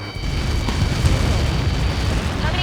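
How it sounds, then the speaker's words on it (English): Huge projectile impact explosion in the video game Ace Combat 7, a deep sustained rumbling boom that rolls on loudly for several seconds with a faint radio voice over it. "How many got caught in that explosion?"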